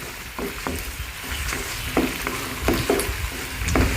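Pork frying with garlic in a pan gives off a steady close sizzle, with sharper crackles and pops every half second or so.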